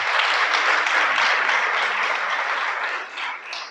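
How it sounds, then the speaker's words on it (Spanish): Loud, dense applause from a congregation during a Shabbat message, a continuous roar of many hands clapping that tapers slightly near the end, with no voices over it. "Dale un aplauso al Creador."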